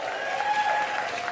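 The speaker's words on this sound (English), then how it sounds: "My round of applause." A brief round of applause from a comedy club audience at a Dave Chappelle stand-up show, a short even patter of clapping.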